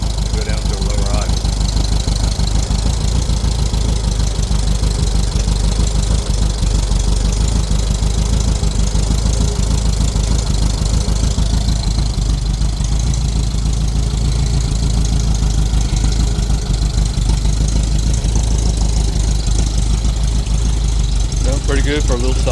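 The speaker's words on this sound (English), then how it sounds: "Sounds pretty good for a little stock engine, especially one that was chunked together out of spare crap." The stock air-cooled engine of a 1964 VW pan buggy idles steadily and close by for over twenty seconds, with a constant low rumble and even pulsing throughout.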